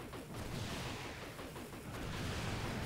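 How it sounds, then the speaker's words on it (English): Explosions rumble continuously in a video, a dense, loud barrage of overlapping blasts and crackling booms with no pauses, heavy and close throughout. "having a little trouble hearing you with all the explosions"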